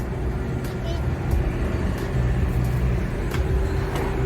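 A car arrives and pulls up, its engine and road rumble forming a steady, fairly loud drone with a few faint clicks and knocks across the whole stretch.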